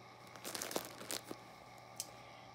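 Plastic crinkles in short, quiet bursts, a few crackling rustles up close with brief pauses between them.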